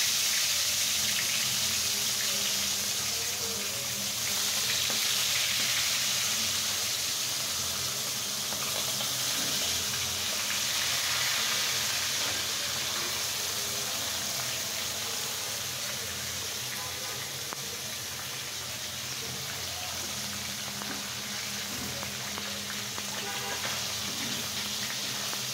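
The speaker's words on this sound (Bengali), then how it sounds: "এখন আমি মাছটা গরম করে ভেজে নেব।" Poa fish fry in hot oil in a pan with a steady, dense sizzle that hisses continuously at moderate volume for the whole stretch, close up and with no talking.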